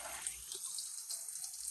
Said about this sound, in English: So I get them clean with some nice hot soapy water.